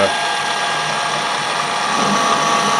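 A small lathe takes a wide screw-cutting pass on an adapter for a wood lathe chuck, giving a loud continuous metallic grinding whine with a steady gear rattle and no break.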